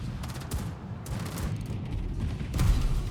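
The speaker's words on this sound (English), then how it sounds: "Getting a lot of ricochets." Gunfire and shell ricochets in a naval battle video game sound as repeated booming salvos and crackling impacts, layered and fairly loud, with a heavier burst near the end.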